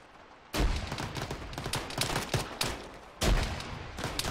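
Explosions and heavy gunfire from the Arma 3 military shooter, a frag grenade thrown at a sandbag bunker: loud, dense bursts of shots with two sharp blasts, one early and one near the end.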